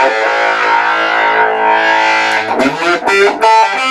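A single-coil electric guitar with a stock Fender whammy bar plays through a distortion pedal: a loud sustained distorted note bends and wavers under the bar, then choppy stabs close it.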